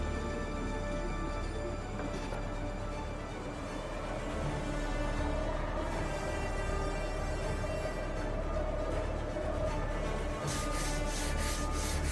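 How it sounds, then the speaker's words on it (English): Steady back-and-forth hand block sanding of primer on a BMW body under restoration, a continuous abrasive rubbing with a regular stroke rhythm, loud and close throughout. "He starts the tedious block sanding, leveling the high spots by hand"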